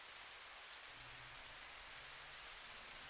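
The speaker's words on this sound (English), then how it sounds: "Oh no, it's raining in the house!" Steady rain falls in a Roblox game, a soft, even hiss of drops with no breaks, faint and alone.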